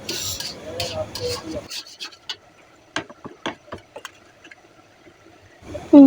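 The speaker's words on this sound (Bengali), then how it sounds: "আমি আবারও অল্প কিছু করে দিচ্ছি, দিয়ে নাড়া দিচ্ছি যাতে এটা ভালো মতো আঠালো হয়ে যায়" Rice flour stirred into a sticky cooking mixture in a pot, with a rasping scrape at first and then a run of short, separate scraping strokes against the pan, close and moderately loud.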